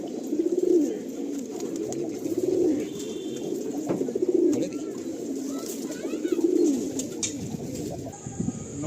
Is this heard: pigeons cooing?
yes